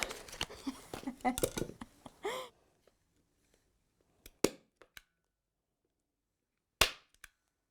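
A staple gun fires into fabric on a TV frame: a few sharp close snaps amid handling noise at first, then quiet broken by two isolated clicks and a final louder snap with a faint rattle.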